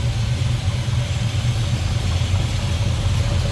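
A 1969 Chevrolet C20 truck with a small block Chevy V8 runs on the road, giving a steady, close engine rumble that stays even throughout, with no voices.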